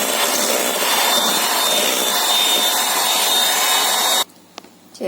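An electric mixer beats sponge cake batter at high speed (setting 3), giving a loud, steady motor whir that cuts off abruptly about four seconds in, leaving near silence.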